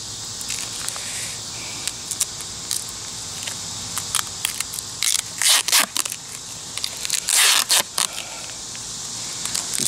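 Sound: tape being applied to repair a wasp nest cover

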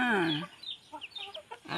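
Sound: chicks and chickens clucking

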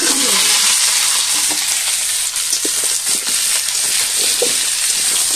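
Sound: frying dry chili and sweet pumpkin in pan

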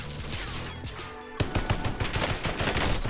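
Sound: gunfire in Call of Duty Warzone video game

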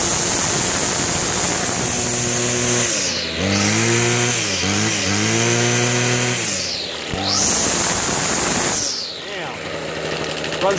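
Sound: Toro 51976 25cc gas string trimmer engine running

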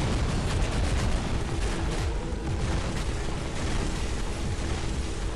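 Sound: bombardment zone explosions in the video game Free Fire

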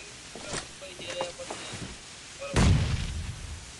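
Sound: gunshots in video game Knives Out

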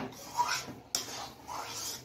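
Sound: stirring semolina halwa with cardamom in a pan

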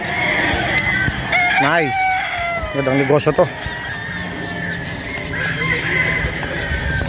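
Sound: gamecock roosters crowing and clucking

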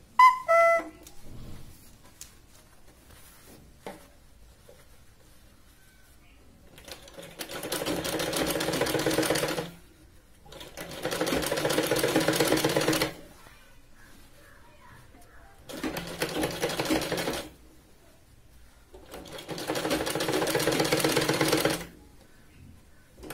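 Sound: sewing machine stitching a kurti sleeve

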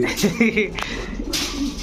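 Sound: Sirazi pigeon cooing

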